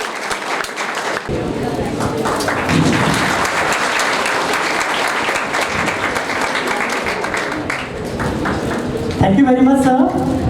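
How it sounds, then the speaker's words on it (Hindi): Thunderous applause from an expo audience for a guest of honor, a dense steady wash of many hands clapping that swells after a quiet start, with voices and a brief tonal sound near the end. "तो जोरदार तालियां हो जाए हमारे गेस्ट ऑफ ऑनर के लिए"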